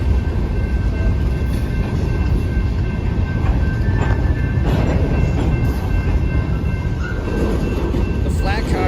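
CSX L734 freight cars roll through a transfer yard with a heavy low rumble and rhythmic wheel clatter, plus a thin steady whine and a brief squeal near the end. Someone talks faintly beneath the rumble.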